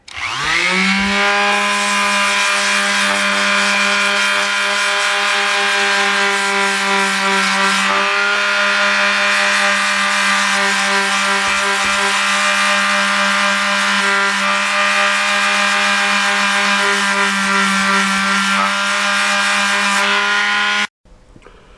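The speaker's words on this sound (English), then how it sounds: "the little palm sander took care of that" A small palm sander grinds lettering off a mirror, a loud, steady, close motor whine with a constant pitch that starts up, runs without a break for about twenty seconds, then cuts off abruptly.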